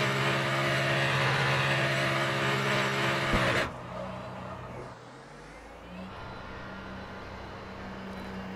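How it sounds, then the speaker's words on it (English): Race car engines roar continuously in the Le Mans Ultimate racing game, a dense loud drone that cuts sharply at one point and continues at a lower, quieter level as engines pass and fade. "I love the sounds like of the cars going."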